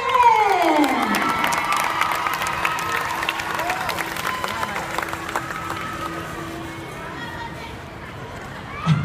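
An audience welcomes an executive editor with steady clapping, mixed with cheering and shouting voices, some of them children's, and people talking throughout.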